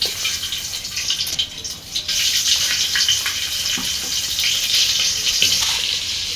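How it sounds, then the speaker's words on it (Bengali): Eggs fry in oil in a pot, giving a continuous bright hiss with a few soft clinks and bumps close by. "ডেক্সিতে তেল দিয়ে দিছে এখন ডিমগুলো ভেজে নিতে"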